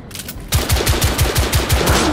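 Rapid machine-gun fire in The Order: 1886, a dense burst of about a dozen evenly spaced loud shots starting abruptly after a brief quiet lead-in, with no talking.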